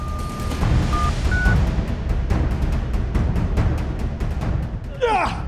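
A few short electronic beeps, like phone keys being pressed, sound over a busy, rumbling background with a brief rising whistle-like sound at the end.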